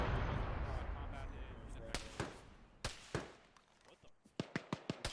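Enemy gunfire in the ArmA 3 military video game: a rumbling start, then scattered sharp cracks that speed into a quick run of shots toward the end, fairly distant and moderately loud.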